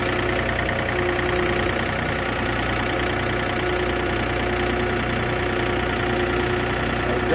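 A John Deere tractor engine idles steadily and loudly for the whole stretch, a constant mechanical rumble with no change in pace and no voices.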